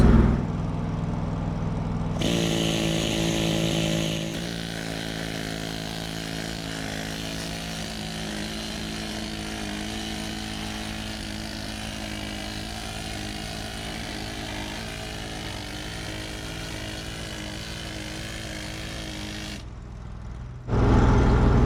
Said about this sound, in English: so that got us a good start as to being able to gouge in there